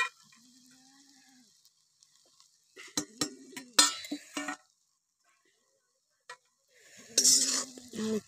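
A spoon scrapes and clinks against a pan while sautéed chillies are stirred together with crushed peanuts, a few sharp close taps and scrapes separated by quiet pauses, with a faint sizzle.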